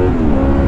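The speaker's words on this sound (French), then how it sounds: "Oh, ce son du VTEC." A 2004 Honda VFR 800 motorcycle's V4 engine, rated at 106 hp, pulls hard with VTEC engaged, making a loud, dense, continuous roar close by in a short burst.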